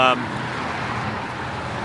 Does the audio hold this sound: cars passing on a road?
yes